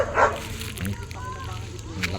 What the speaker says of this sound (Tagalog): Ang lakas ng aso mga kalulo